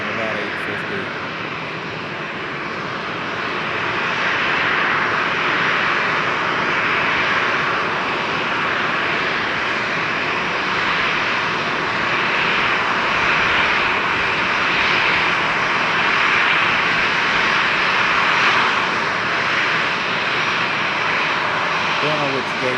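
Close, steady jet engine roar from an airliner taxiing at Charlotte Douglas airport swells slightly and holds for the whole stretch, with someone talking over it.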